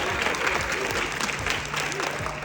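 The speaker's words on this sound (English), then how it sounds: "Huge round of applause, please" A large audience applauding for the director and producer of an animated Transformers film, a loud, continuous roar of clapping with faint crowd voices mixed in throughout.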